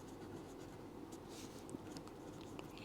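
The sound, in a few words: writing out a maths solution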